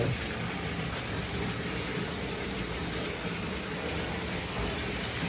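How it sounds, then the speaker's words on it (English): Sinks fill with water from the taps in a steady, loud, broadband rush that continues unbroken throughout, with no talking. "While those sinks are filling,"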